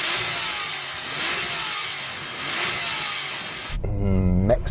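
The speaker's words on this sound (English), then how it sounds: "Let's hear the 997." A Porsche 911 Turbo of the 997 generation revs repeatedly, its rising engine pulls partly buried in a steady rushing noise, before a louder, tonal, voice-like sound takes over near the end.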